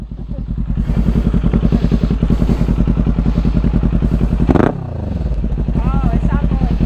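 Kawasaki motorcycle engine revving up close, a steady rapid-firing roar that climbs and then drops sharply near the end before settling back into a throbbing idle, with a voice speaking briefly over it.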